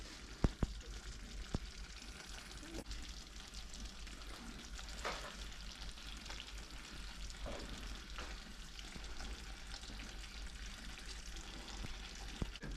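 Loki bhaji cooking in a pan over very low heat, with a soft, steady sizzle and occasional light clinks and stirring sounds, close and quiet.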